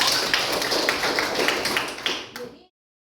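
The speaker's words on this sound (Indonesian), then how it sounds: "beri tepuk tangan untuk Indira" An audience claps for a presenter named Indira at a teacher workshop, a dense burst of applause lasting a couple of seconds before cutting off abruptly.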